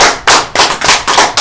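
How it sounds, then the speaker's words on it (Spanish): Applause during a Spanish-language church service: a short run of hand claps in uneven bursts, close and fairly loud, with no speech over it. "¿Nadie le da un aplauso al Señor?"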